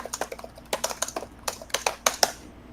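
Fast typing on a computer keyboard in a radio studio, a quick irregular run of crisp, fairly quiet key clicks with no talk over them.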